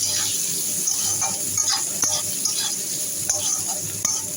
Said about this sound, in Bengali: এটাকে আগে ভেজে নিই বেগুনটাকে